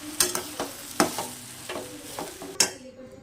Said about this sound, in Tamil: நல்லா கொதி வந்துடுச்சு நீ சாப்பாட்டு போட்டு கிளறலாம்